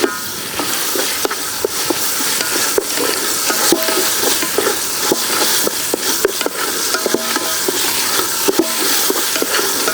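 Onion with ginger garlic paste fries and is stirred in a pan for mutton keema, a steady close sizzle broken by frequent scraping and clacking strokes of the spoon, with no talk.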